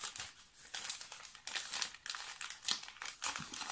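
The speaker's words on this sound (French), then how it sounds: "Alors, hop, on va plier la carte." A transparent advent calendar card is folded and crinkled close up, giving bursts of crisp, papery crackling that come in uneven pulses.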